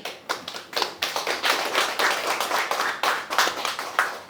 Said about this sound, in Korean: 좀 박수로 환영해 주시길 부탁드리겠습니다